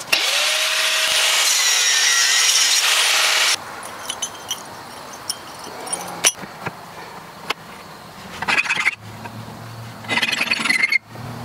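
Sawing pieces for a door latch on a water-heater woodstove: a loud, sustained squealing cut for the first few seconds, then shorter intermittent rasping strokes and scrapes.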